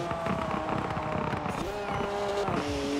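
Engine of a car in Forza Horizon 4 revving and pulling hard, with a steady rising harmonic whine and rough mechanical texture that shifts pitch as gears change, close and continuous throughout.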